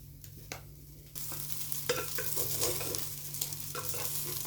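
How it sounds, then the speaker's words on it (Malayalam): Vegetable fried rice is stirred in a hot pan, with quiet scattered scrapes at first, then a sudden rise into loud continuous sizzling broken by repeated sharp scraping strokes of the spatula. "നല്ലോണം ഇളക്കി കൊടുക്കുക."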